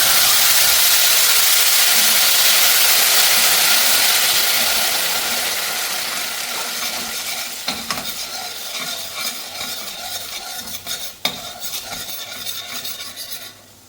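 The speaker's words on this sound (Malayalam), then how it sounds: "ഇത് തക്കാളി തക്കാളി അരച്ചതാണ് ജ്യൂസാക്കി എടുത്തതാണ് അത് ഒഴിച്ചെടുക്കാം" Ground tomato juice hits a hot pan with garlic for a Kerala-style cheera curry, bursting into a loud hiss that gradually settles into a softer sizzle with occasional stirring scrapes.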